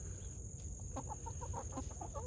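Chickens cluck softly in a coop converted from a doghouse, a series of short repeated clucks over steady background noise and a constant high electrical whine.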